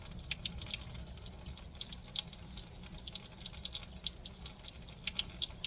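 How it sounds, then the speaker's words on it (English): An aquarium cleaning kit is rinsed under running water, a soft, steady trickle with light drips and splashes, fairly quiet and close, with no talking. "just give it a little bit of a rinse"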